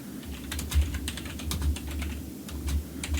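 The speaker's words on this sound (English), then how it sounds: "I'm so sorry if you can hear me typing." Rapid typing on a computer keyboard picked up by an unmuted microphone during an online talk show, a quick irregular stream of close key clicks with no speech.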